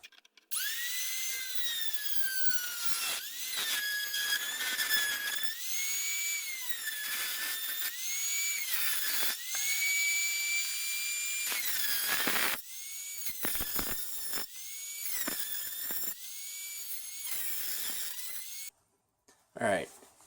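A power tool cuts through the metal of a small key chain alcohol stove with a loud, high-pitched whine that rises and falls, broken by brief pauses, nearly continuous for about eighteen seconds.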